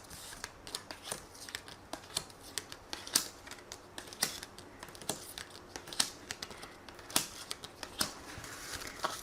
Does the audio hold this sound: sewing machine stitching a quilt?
no